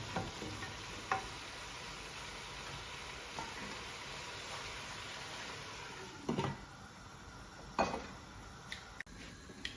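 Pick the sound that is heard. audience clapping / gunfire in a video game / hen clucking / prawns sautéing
prawns sautéing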